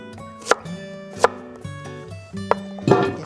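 Knife chopping food on a cutting board in a studio kitchen during a Korean cooking show, four sharp, evenly spaced thuds close up, with a slightly longer, busier final cut.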